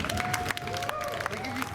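A crowd applauds and cheers outdoors at a Wild West shootout re-enactment in Deadwood, South Dakota. The clapping is steady and fairly distant, with a thin tonal sound running over it.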